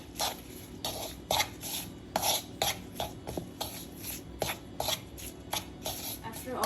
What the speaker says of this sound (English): Now we're going to mix all the dry ingredients.